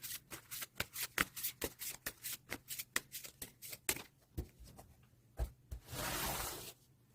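Tarot cards are shuffled in a quick run of crisp, rhythmic snapping flicks, then a few slower taps and a longer sliding riffle as cards are drawn, close and fairly quiet.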